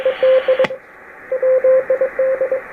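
Keyed Morse-like CW tone beeps on the 40-meter band through a 3 kHz filter over steady, muffled radio hiss, with one sharp click in between and a pause before the beeps resume.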